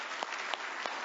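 Audience applause at a political conference with a Barack Obama address, a steady dense wash of clapping throughout with a few sharper claps standing out.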